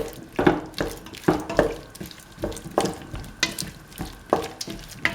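Food in a pan of kidney beans and potato is stirred and salted, with rhythmic scraping strokes of a utensil against the pan about once or twice a second over a soft background sizzle.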